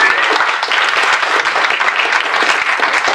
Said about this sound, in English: One big round of applause for all of the speakers.